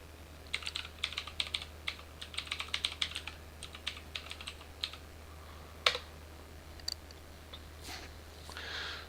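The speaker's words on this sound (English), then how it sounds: "I can type it out for you here." Keyboard typing in an X-Plane 11 flight simulator session: bursts of quick, fairly quiet key clicks in uneven runs, then a few scattered louder taps over a steady low hum.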